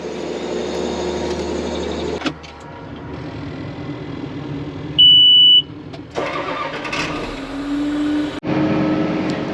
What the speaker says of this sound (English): I'm gonna start the truck as well